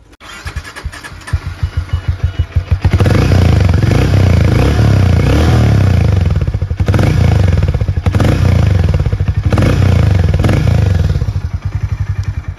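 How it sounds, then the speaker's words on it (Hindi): A Harley-Davidson X440 motorcycle engine idles with a lumpy, thumping exhaust beat, then is revved hard several times, with brief dips between the loud, rough blips. "एक बार ना मैं आपको इसका एग्जॉस्ट नोट भी सुना दूँ"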